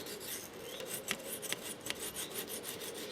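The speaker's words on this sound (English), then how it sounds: "you can use the flat side of your half round file" A half round file rasping across the blade of pruning secateurs, a close, continuous scraping with quick repeated strokes and faint clicks, no voices.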